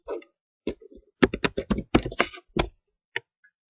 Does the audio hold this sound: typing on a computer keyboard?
yes